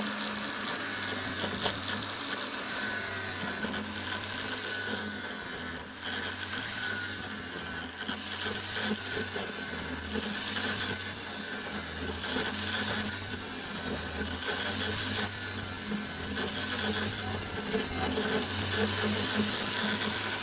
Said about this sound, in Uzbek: mana bunaqa bolgarkada o'tkirlasa ham bo'laveradi